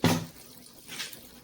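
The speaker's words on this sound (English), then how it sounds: "So I'm running water into this" Tap water running into a container while making Nigerian pap (ogi), with a short splashy gush at first, then a softer steady trickle that swells again briefly.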